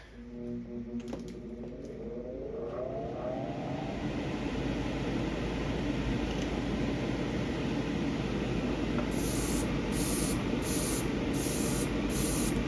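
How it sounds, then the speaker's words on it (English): A steady hiss of a Gaahleri Serenair Mini airbrush spraying lacquer thinner runs continuously after a few faint mechanical clicks and a rising hum at the start. "the lacquer thinner spraying out of the airbrush is louder than any kind of compressor"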